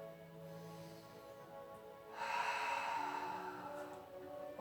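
A person holds a Pilates plank and breathes deeply, with one long, close exhale rising midway over soft background music.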